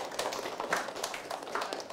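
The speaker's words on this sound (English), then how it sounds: "give them a big clap." A Year 6 classroom audience claps for a group's presentation, giving a brief flurry of quick, uneven handclaps from several children at moderate volume.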